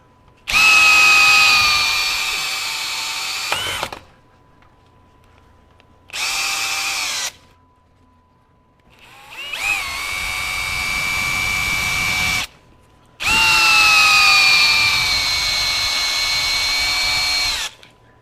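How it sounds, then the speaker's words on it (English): A Bosch GSB18V-1330C 18V cordless hammer drill driver in drill mode whines loudly in four bursts of varying length, revving up and winding down with short quiet gaps between. "Go into drill mode."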